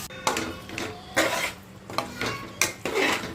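A spoon scrapes and knocks against a cooking pot while stirring a sweetened pumpkin and coconut curry, several irregular clinks and scrapes spaced about a second apart, close and moderately loud.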